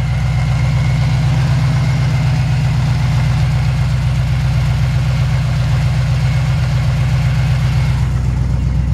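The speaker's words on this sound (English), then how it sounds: "Just wanted you to hear the engine running." A 1954 Chevy 3100 truck engine idles steadily and loud from up close, a low, even rumble with a constant beat that holds for the whole stretch with no voices.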